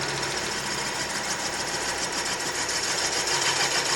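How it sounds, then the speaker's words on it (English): Wood lathe shaking and vibrating while offset turning a piece, a steady dense mechanical rattle with a rhythmic low thrum running continuously and fairly loud throughout. "Doesn't help when your lathe shakes."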